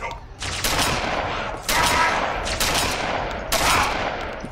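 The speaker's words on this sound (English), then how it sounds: "Shotgun to the face." Heavy shotgun blasts in the HaloDoom video game, three loud close booms with ringing decay following one another in quick succession amid game noise.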